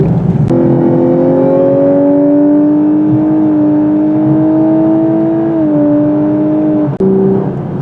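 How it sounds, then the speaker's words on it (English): A 2022 Lexus LC500h six-cylinder hybrid car accelerates on the road, its engine tone rising steadily and smoothly in one long climbing pull, close and loud, with a brief dip near the end. "this vehicle moves up pretty good for a 6-cylinder"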